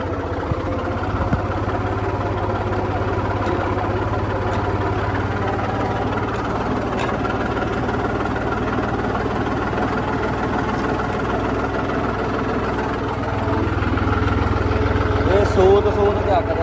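A 3630 tractor with a newly replaced turbo idles with a steady, deep diesel rumble and vibration close by, someone talking over it as the engine note swells slightly near the end.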